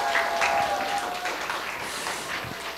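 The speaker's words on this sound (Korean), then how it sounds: "하나님을 찬양하는 우리 첼로 연주 다시 한번 뜨거운 박수 부탁드리겠습니다" Applause for a cello performance at a children's church worship service, a crowd clapping steadily and fairly loudly for a few seconds with a faint voice underneath.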